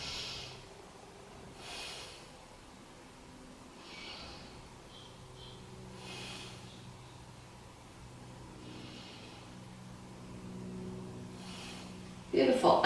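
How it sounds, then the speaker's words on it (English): Slow, deep breaths drawn in and out through the nose during a yoga twist, soft and close with long hissy swells roughly every two seconds, ending in a brief louder rustle. "Take 3 breaths here."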